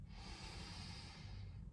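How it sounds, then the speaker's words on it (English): A single slow, deep inhale drawn in through the nose during a guided calming exercise, faint and close, a soft airy hiss lasting under two seconds with no speech. "deep cleansing breath for me"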